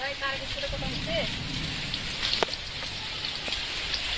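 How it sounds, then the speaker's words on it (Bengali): Rain falling on a tin roof, a dense steady patter of drops that is close and fairly loud, with a few sharper individual hits, and a brief bit of indistinct sound near the start. "বৃষ্টি শব্দ পাচ্ছেন এই যে টিনির সামনে যাই শব্দ হবে এই যে বৃষ্টি হচ্ছে দেখুন"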